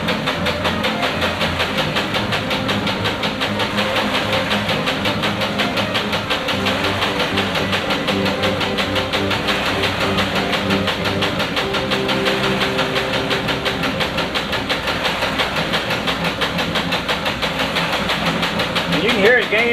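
An energy machine runs on a 20-horsepower motor, producing a loud, dense mechanical drone with a fast repetitive pulse that holds steady throughout, with a voice speaking over it.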